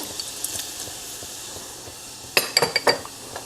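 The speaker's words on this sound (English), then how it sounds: "So I'm going to add pumpkin seeds." Pumpkin seeds are dropped into a pot of nut-free porridge, making a quick cluster of small clinks and rattles against the pan over a low background hiss.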